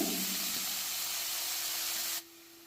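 Cut pirandai sautéing in extra oil in a pan gives a steady, close, bright hiss that stops abruptly near the end.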